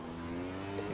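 Formula 1 car engine in the iRacing sim, a steady high droning whine holding near constant pitch for a moment, loud and close with no voices.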